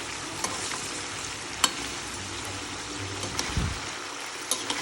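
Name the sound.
frying in oil while stirring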